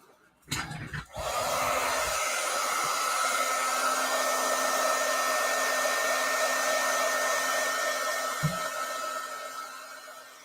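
An embossing heat gun switches on with a click and blows a loud, steady airy roar with a constant tonal hum while it heats up, near and unbroken, with a brief clunk near the end.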